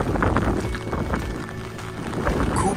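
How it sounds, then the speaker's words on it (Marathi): Strong wind and heavy rain outdoors make a constant loud roar that buffets the microphone, with gusts swelling and easing throughout. "खूप वारा, खूप पाऊस"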